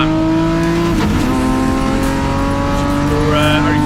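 BMW M race cars in a Class D circuit race, engines droning loud and steady with a tonal whine as the pack comes out of a turn, plus a brief burst near the middle, under a commentator's talk.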